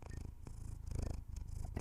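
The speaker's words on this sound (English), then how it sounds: "Do you guys want to hear my cat purr?" A pet cat purring up close, a soft rhythmic rumbling purr with steady in-and-out pulses, quiet and on its own.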